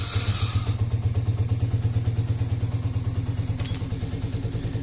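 Yamaha Raptor ATV engine running after an idle screw adjustment, close up: a fast, even, throbbing pulse at steady idle with light mechanical clatter, unchanging throughout.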